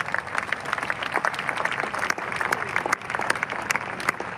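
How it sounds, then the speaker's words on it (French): A church congregation applauds for the Lord, steady dense clapping from a large crowd, continuous and loud throughout without a break. "on acclame pour le Seigneur"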